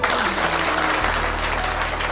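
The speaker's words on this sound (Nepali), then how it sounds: "यो दुवैतिरबाट ताली बजाइदिउँ।" Guests at a Christian wedding ceremony in Nepal break into loud, dense applause from both sides of the gathering. The clapping is close, continuous and sustained, with a low hum running underneath.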